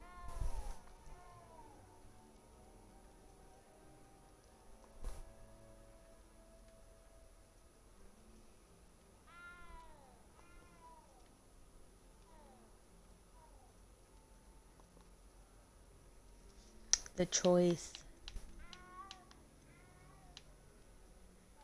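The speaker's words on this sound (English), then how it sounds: "That cat." Several cat meows from a Hogwarts Legacy game scene, quiet at first and then a louder burst near the end, over a faint steady background hum, with a voice speaking briefly.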